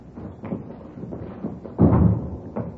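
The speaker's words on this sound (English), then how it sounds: "I'll get the door." A door opening and closing at a school, heard as a few dull thuds and a louder bump near the end, fairly close and otherwise quiet.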